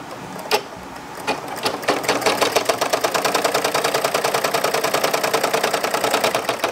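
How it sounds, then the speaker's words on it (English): A Brother PE-770 embroidery machine stitching black thread, starting with a few isolated clunks before settling into a loud, steady, rapid mechanical chatter close by. "I'm going to press the button, and it's just going to start stitching black all inside of that circle right there."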